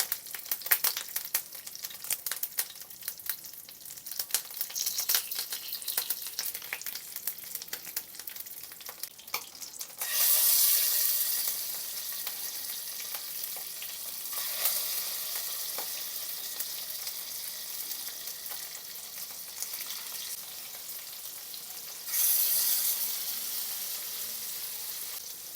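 Curry leaves frying in oil over a low flame, a crackling sizzle that starts as scattered pops and then swells into two louder, denser bursts of frying around stirring, with no one talking.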